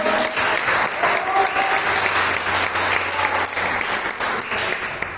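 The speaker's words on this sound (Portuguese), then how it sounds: "As palmas para essa palavra" Church congregation applauding together, a loud, steady wash of many hands clapping that carries on for several seconds and tapers slightly toward the end.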